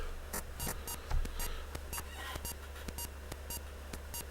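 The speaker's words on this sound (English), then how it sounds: "Every time it goes beep, beep, beep, it's actually loading from it's loading from the virtual disk" Quiet, regularly repeating short beeps from an emulated Atari 8-bit computer loading off a virtual disk, evenly spaced about half a second apart over a steady low hum.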